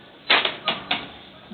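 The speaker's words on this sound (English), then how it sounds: "typing the motion" Keyboard typing during a meeting, heard as three or four short clustered bursts of keystrokes close by, with brief pauses between and no talk over them.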